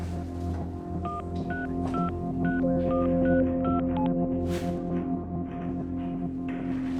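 A string of telephone keypad tones beeps out in an irregular rhythm over a low steady hum, followed by faint clicks and line noise.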